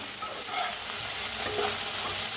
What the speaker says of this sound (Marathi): भेंडी बी मस्त अशी भाजा लागलेली आहे